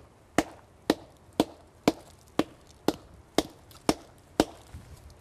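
Regular hard blows beating on a standing tree trunk outdoors to test for decay, about nine sharp knocks evenly spaced roughly half a second apart, each with a short woody ring, close and loud with no talking.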